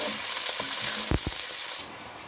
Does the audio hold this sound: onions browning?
yes